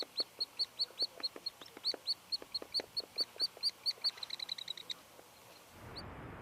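Small songbird in a Yosemite forest giving a fast series of bright, evenly spaced chirps, close and clear, speeding up before stopping, followed by a brief soft rustle.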